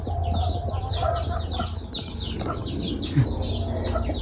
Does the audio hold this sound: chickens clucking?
yes